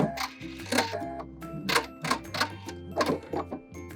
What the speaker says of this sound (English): I'm going to come to the end of my piece of fabric, and then I'm going to backstitch